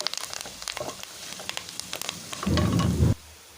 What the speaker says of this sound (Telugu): ఈ పసుపును కూడా ఆయిల్లో అయితే వేయించుకోవాలి